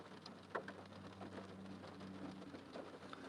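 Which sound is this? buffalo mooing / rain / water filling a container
rain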